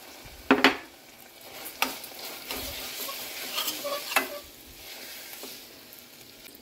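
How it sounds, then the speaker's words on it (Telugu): Lentils frying in oil alongside garlic and drumstick leaves, heard as a soft, steady sizzle broken by a few sharp scraping stirs, close by with no talk. "పప్పు కూడా వేసి ఒక 2 నిమిషాలు పప్పును కూడా నూనెలో వేయించుదాం."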